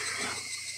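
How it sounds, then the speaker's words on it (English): Cicadas in the Higurashi When They Cry visual novel keep up a steady, shimmering high drone for under a second, faint and continuous, with a low hum beneath and no voices. "The familiar sounds of the cicadas."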